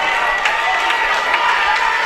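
A wrestling crowd cheers loudly after a drop kick, a dense roar of voices with scattered shouts, close and continuous through the moment.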